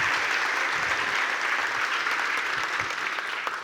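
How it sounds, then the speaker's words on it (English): Audience applause at a Wi-Fi Design Day tech conference presentation, steady and dense clapping from a large crowd filling the whole stretch without a break. "big round of applause for Troy"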